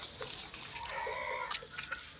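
Egyptian Fayoumi laying hens on a poultry farm cluck softly and steadily through a short, faint stretch, with a few sharper calls rising near the end.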